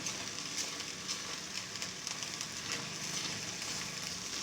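Egg and milk halwa cooking in ghee, a soft continuous sizzle and crackle with faint stirring scrapes, close and low in volume with no talking.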